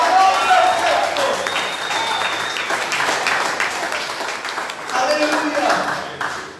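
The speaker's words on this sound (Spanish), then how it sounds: "Aplauda el nombre de Cristo" A congregation at a church service claps and applauds continuously, swelling and fading, with a preacher's voice speaking over the clapping.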